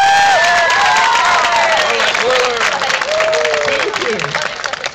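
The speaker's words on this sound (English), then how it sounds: "So give them another round of applause." Round of applause and cheering for twirlers at an outdoor Christmas event in a small Ohio village, loud sustained clapping from a crowd with whoops and shouts rising above it, close and busy throughout.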